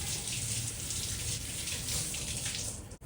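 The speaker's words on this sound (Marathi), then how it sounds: "आंबे धुवून घेऊ पहिला." Tap water gushes in a steady, fairly loud stream while mangoes are washed under it, close to the mic, cutting off abruptly at the end.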